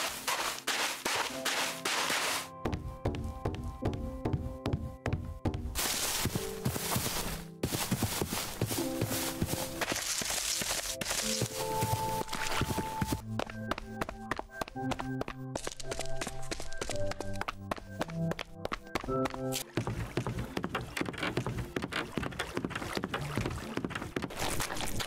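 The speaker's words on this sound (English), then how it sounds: "can now hear his footsteps making different sounds depending what block he walks on" Footsteps in Minecraft with a sound mod, each block type giving a different step sound; repeated short steps and stamps run throughout, changing in tone and texture between surfaces, over a layer of musical tones.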